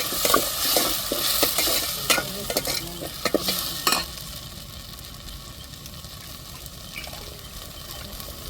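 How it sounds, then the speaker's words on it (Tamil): Onions and tomatoes sautéing in hot oil for an egg curry, a steady sizzle with frequent spoon-scraping stirs in the first half, then settling to a quieter continuous fry. "இப்போ வெங்காயம் தக்காளி ரெண்டையுமே சேர்த்து நல்லா எண்ணெயில் வதக்கி விட்டுருவோம்."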